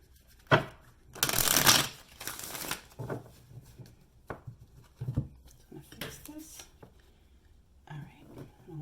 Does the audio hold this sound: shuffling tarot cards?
yes